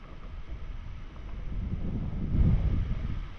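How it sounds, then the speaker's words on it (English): Gusty wind buffets the microphone, a low rumbling roar that swells louder toward the end, with no talking. "super windy"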